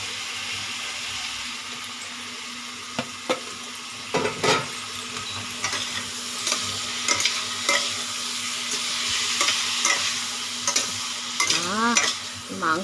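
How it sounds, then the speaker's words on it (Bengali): Pointed gourd and potatoes sizzle steadily in a hot pan as a spatula stirs and scrapes through them in repeated strokes, with a few sharper clatters against the metal; no one speaks. "এবার আমি প্রথমে পটল আলুটা দিয়ে দিই"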